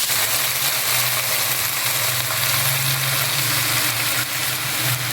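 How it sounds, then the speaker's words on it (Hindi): Beef steak frying with garlic in a pan makes a loud, dense sizzle close by, steady from start to finish with a low droning hum underneath and no speech. "2 मिनट के लिए हमने दोनों तरफ से कुक करना है।"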